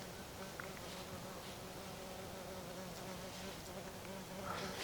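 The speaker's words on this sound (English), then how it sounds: "There's several wasps in this area that are visiting." Faint buzzing of wasps drifts in and out over a low outdoor hum on a hiking trail, with a voice murmuring quietly in the background.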